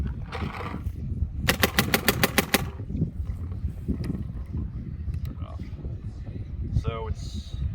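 A Macdev XDR mechanical-frame marker fires a quick, evenly spaced burst of about eight sharp shots. A voice speaks before and after the burst over steady outdoor background noise.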